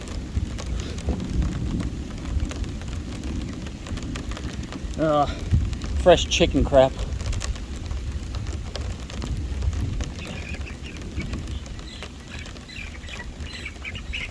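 Steady rain patters on surfaces with low rumbling during an Oklahoma thunderstorm with flash flooding, while a person speaks briefly and ducks quack in the middle.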